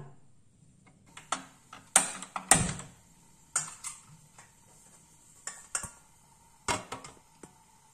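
Peanuts dry-roast in a pan, giving sparse, sharp rattling clicks and scrapes as they are stirred, close up over a quiet background, in irregular bursts.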